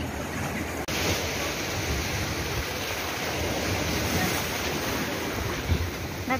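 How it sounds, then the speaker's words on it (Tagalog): Strong ocean waves break on Cheung Sha Beach on Lama Island, a continuous loud wash of surf mixed with wind buffeting the microphone. "Ang lakas ng alon."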